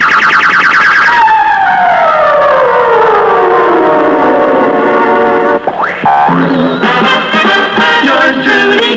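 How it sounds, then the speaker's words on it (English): A 1964 KOMA Oklahoma City radio "kissing tone" signal: a loud electronic tone sweeping slowly downward for several seconds, then a brief break into rising chirps and warbling upper tones, with no talking over it. "for the kissing tone on KOMA"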